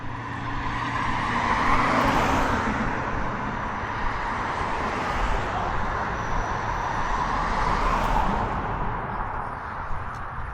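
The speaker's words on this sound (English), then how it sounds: "I just can't believe that we still got so much traffic at 10 o'clock at night" Steady traffic roar on a Dallas city street at night around 10 o'clock, a continuous wash of passing engines and tire noise that swells as vehicles go by, with no voices over it.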